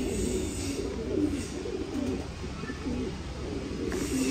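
Pigeons in a pigeon loft give soft, low, repeated coos over a steady background hum, fairly close and continuous, with no talk.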